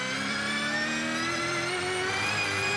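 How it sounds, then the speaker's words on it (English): A Supercars race car engine at the start of a 2021 Sandown SuperSprint race, the throttle fed in gently, giving a steady, sustained mid-pitched engine drone that rises slowly and evenly, loud and continuous with no voices. "Hear how Brodie just feeds the throttle very gently."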